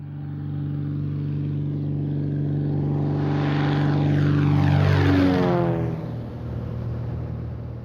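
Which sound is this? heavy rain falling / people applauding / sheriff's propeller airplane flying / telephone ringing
sheriff's propeller airplane flying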